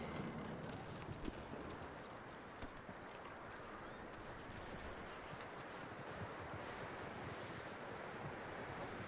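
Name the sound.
horse hooves clip-clopping in a video game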